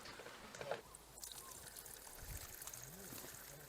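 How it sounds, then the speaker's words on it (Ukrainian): Water trickles and splashes steadily from a mountain spring in the Carpathians into a container, with faint voices in the background. "Дівчата набирають водичку ще зараз і умиємося."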